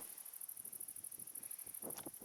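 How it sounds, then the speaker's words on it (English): A steady high-pitched great green bush cricket song runs throughout, continuous and fairly loud, with faint background rustle and a brief soft sound near the end, on the Isle of Wight in summer. "The sound of these crickets singing."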